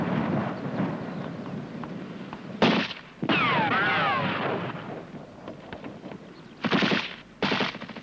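Machine gun and rifle fire in a military training film, heavy continuous bursts and sharp loud reports with a whistling streak overhead, dense and rumbling throughout.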